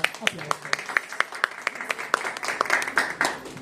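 Live audience applause greeting trainers at a Rotary maternal and child health forum, a dense patter of many hands clapping steadily with sharp individual claps standing out, filling the room throughout.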